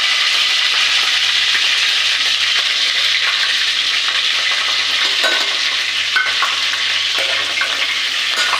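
Loud, continuous sizzling and crackling of a tempering of mustard seeds, cumin, onion and curry leaves in hot oil, a dense bright hiss with scattered pops, close up and steady throughout.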